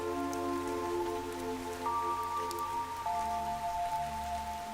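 Rain falls steadily in the video game Fantasian Neo Dimension, a soft continuous patter beneath sustained musical tones, with no voices present.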